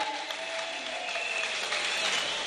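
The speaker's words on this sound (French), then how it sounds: "Je vous prierai de les applaudir encore un peu," An audience at a gospel music competition applauds a performing group, a dense continuous wash of clapping at moderate level that holds steady without pauses.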